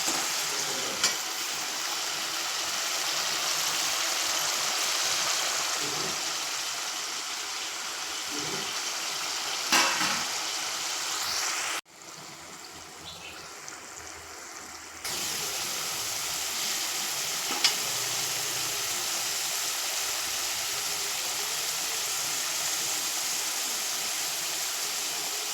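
Homemade potato finger chips deep frying in hot oil, a steady dense sizzle and bubbling that runs continuously with a brief dip midway, close and moderately loud, no talk.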